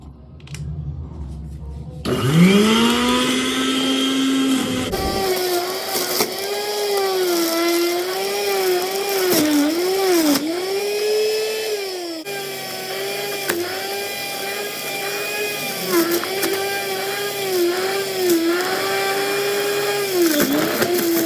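An electric juicer extracts juice from sweet lime, beetroot and pomegranate, whining loudly and steadily at close range after it starts up, its pitch dipping and recovering as the produce is fed through.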